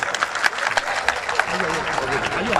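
Audience applause at a Malad mushaira award ceremony in 2016, a dense, steady patter of clapping held throughout, with talk running over it.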